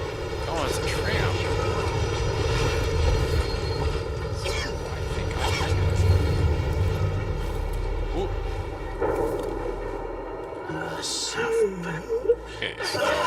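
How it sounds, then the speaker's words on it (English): A tram rolls past in Dishonored 2 with a long droning mechanical hum and low rumble that fades near the end, while someone talks over it. "Oh, it's a tram."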